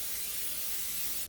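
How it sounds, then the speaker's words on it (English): Non-stick cooking spray is aimed into a 9 by 13 inch casserole dish, giving one steady, close aerosol hiss that runs unbroken for just over a second before cutting off. "I'm just gonna spray this with a little non-stick spray"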